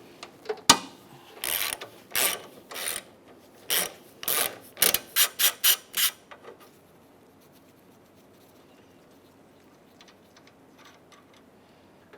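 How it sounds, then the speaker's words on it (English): Ratchet wrench clicking in short bursts while bolts are loosened from the A/C lines at the condenser of a 2007-2013 Acura MDX; close, brisk ratcheting that stops after about six seconds, leaving quiet. "So we take these bolts out on our AC lines."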